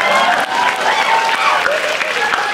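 A studio audience applauds for a performer, a loud, dense burst of clapping with voices talking over it.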